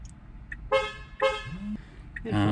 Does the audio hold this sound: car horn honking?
yes